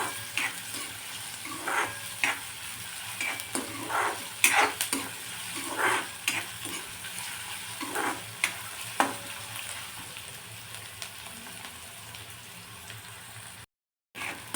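Chopped onion sizzles and fries in hot oil, stirred now and then with scraping spoon strokes over a steady crackle, close up in a home kitchen while cooking dry black-eyed bean pod curry.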